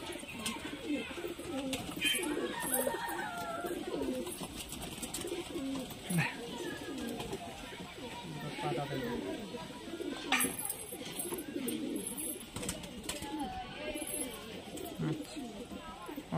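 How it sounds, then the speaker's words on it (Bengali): Long-breed pigeons at a pigeon market, steady throaty cooing from many birds nearby under ongoing conversation. "লং পায়রা বন্ধুরা, বুঝতেই পারছে অনেক লং পায়রা"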